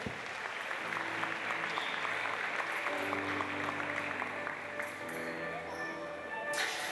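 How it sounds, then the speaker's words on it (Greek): Steady applause from an audience at an honorary plaque presentation during a basketball all-star game, dense and sustained throughout, with a voice talking faintly beneath the clapping. "Ένα χειροκρότημα, κυρία Τσουρουφλή."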